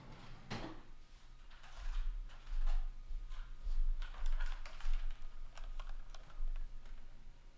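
Typing on an ErgoDox EZ-style split keyboard, close clacking keystrokes arriving in quick bursts with brief pauses, over a low steady hum, with no talking.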